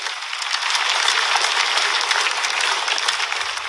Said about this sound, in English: Let's clap for wonderful Jesus Christ.